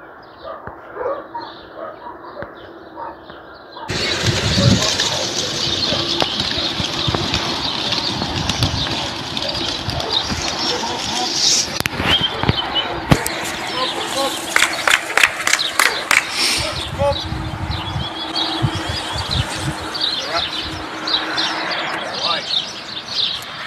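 Racing pigeons are released at the start of a 1200 km race in New Zealand, a sudden loud burst of many flapping wings followed by sustained fluttering and sharp wing claps, with voices and dog barks around.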